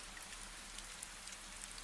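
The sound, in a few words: gentle rain falling in an old garden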